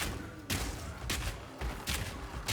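Mercenary character firing a weapon at enemies in Path of Exile 2, sounding as several loud gunshot bursts at roughly even intervals over a steady game soundscape.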